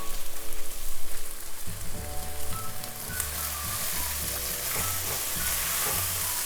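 Okra masala sizzles steadily in a hot pan as chopped cilantro is stirred in, with scraping stirs over the constant frying hiss and no talking.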